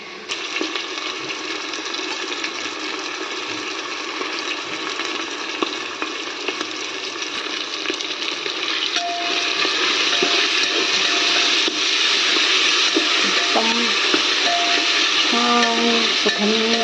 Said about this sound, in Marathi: हे आपण मिक्स करणार आहोत आणि छान परतून घ्यायचं आहे